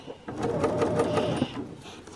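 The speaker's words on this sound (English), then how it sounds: "I am understitching a couple of mil away from the actual ditch where the stitching line is" A sewing machine runs a short burst of rapid, even stitches while understitching a collar seam, close and clear, stopping after about a second and a half.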